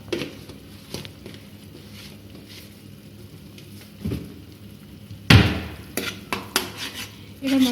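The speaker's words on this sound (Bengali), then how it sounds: "এবার মশলাটাকে ভালো করে নাড়াতে হবে।" Spice paste for pabda fish jhal is stirred in a pan, with scattered soft knocks and scrapes of a utensil, then a sharp loud clank followed by a run of quicker metallic taps up close.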